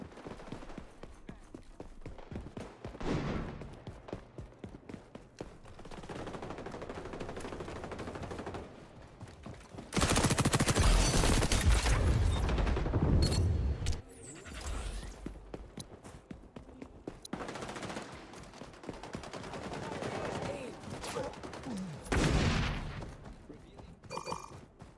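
Video game gunfire laying down covering fire, bursts of rapid shots with a loud sustained barrage in the middle, mixed with mechanical clatter and game effects.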